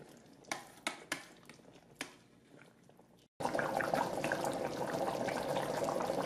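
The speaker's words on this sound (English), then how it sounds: "If you want to reduce the liquid of any dish that you've just cooked, press saute." Chicken curry liquid reduces on saute mode in an Instant Pot Duo Mini. A few quiet taps and drips come first, then after a brief silence a steady close bubbling hiss carries on unbroken.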